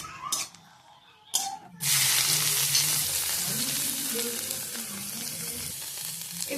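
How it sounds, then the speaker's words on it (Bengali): A dried red chilli sizzles in hot mustard oil in a wok, the frying starting with a loud burst after a couple of clattering knocks and then holding as a steady, close crackle with faint stirring scrapes. "এবার দিয়ে দিচ্ছি একটা শুকনো লঙ্কা। লঙ্কাটা একটু ভালো করে ভেজে নিচ্ছি।"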